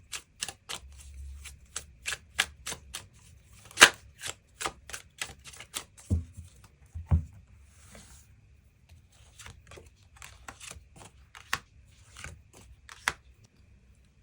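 Tarot cards being shuffled and drawn at a table during a reading, heard as faint, close, sparse taps and soft snaps of card stock with quiet rustling between them and no talking.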